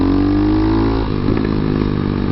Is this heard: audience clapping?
no